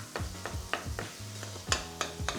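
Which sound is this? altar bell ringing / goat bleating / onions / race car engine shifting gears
onions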